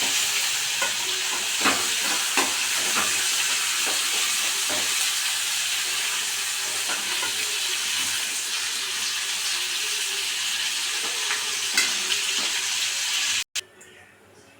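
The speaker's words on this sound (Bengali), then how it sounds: "চিকেন ভাজার এই তেলের মধ্যেই আমি গোটা গোটা শুকনো লঙ্কা দিলাম, তেজপাতা দিলাম আর গোটা গরম মশলা দিয়ে দিলাম" Dried red chillies, bay leaves and whole garam masala frying in oil left from frying chicken, a dense continuous hiss with scattered crackles and stirring clicks, close, cutting off abruptly near the end.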